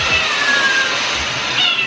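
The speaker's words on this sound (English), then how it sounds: "I can see my cat." A pet cat meows indoors in an apartment, loud and close. The meow comes as one sustained, slightly wavering cry that lasts the whole short moment, with no talking.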